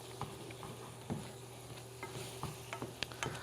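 A utensil quickly stirs shrimp sauce in a pan for fresh pasta, a soft sizzle running steadily beneath repeated light scraping strokes, faint and close with no talking.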